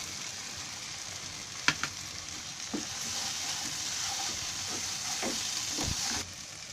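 Chilli masala sizzles steadily in oil in a frying pan, a constant close hiss broken by a few stirring clinks and scrapes.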